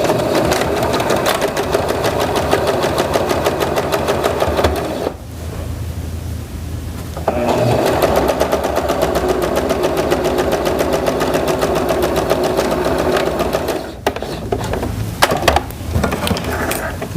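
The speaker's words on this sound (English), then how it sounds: "Bring it to the sewing machine." Close, rapid whirring of a sewing machine stitching quilt pieces in long bursts, with a short pause partway through and a brief stop near the end.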